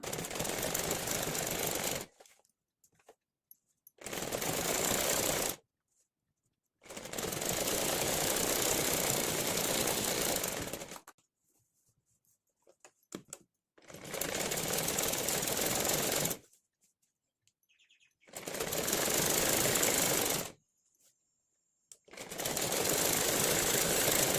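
A sewing machine stitches a blouse in repeated bursts of rapid, loud mechanical chatter, each lasting a few seconds, separated by short pauses of near silence.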